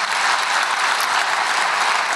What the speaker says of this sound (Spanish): Bríndele una fuerte ofrenda de palmas al Señor.